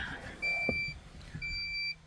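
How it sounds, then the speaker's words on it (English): A Honda CRX Si seatbelt warning chime sounds inside the car, two clear electronic tones repeating at a steady interval, fairly faint, with light handling noise underneath. "It's still beeping on."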